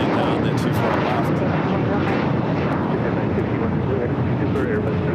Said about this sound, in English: Super Airbus 380 departing the North Complex